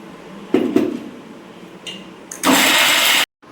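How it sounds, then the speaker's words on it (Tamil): A kitchen mixer grinder pulverising a dry ragi mixture, starting with a couple of short clunks and bumps before a brief loud whirring run that stops abruptly. "இதை அள்ளி போட்டு மிக்சியில் ஒரு ஓட்டு ஓட்டிக்கலாம்."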